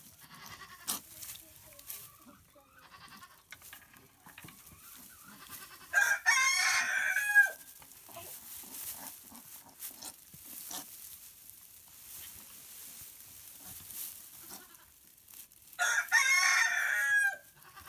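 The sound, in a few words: rooster crowing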